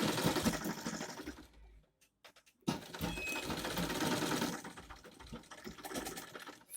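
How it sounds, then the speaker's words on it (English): A sewing machine stitches zip cloth to leather for a small bag, running in a fast, steady mechanical whir that stops briefly midway before starting again, close and loud. "Do place it like that and sew it all the way down."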